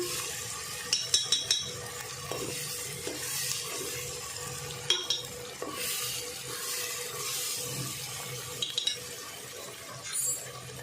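Raw tomato sautéing in a pan for a curry with black-eyed pea and potato, a steady soft sizzle broken by a few sharp clinks and scrapes of a spoon against the pan.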